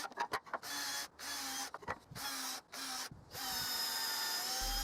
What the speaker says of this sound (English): I drilled two pilot holes in the ends of each piece of pine